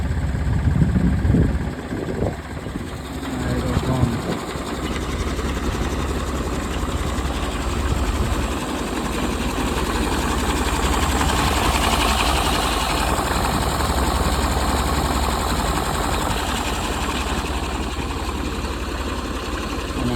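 A tractor engine idles on a farm during spraying work, a steady low rumble running continuously and fairly loud, with some handling knocks near the start.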